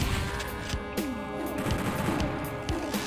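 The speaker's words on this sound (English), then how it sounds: "Give us a chain gun immediately." Gunfire from a chain gun blasts in repeated sharp bursts inside the DOOM 64 mod Knee-Deep in the Dead, cutting loud and close over a steady tonal game soundtrack while imps and gunners lurk nearby.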